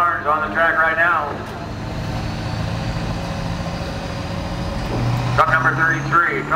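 A diesel work-stock pickup idles and rumbles low at a truck-pull track, a steady engine drone under an announcer speaking over a loudspeaker at the start and end.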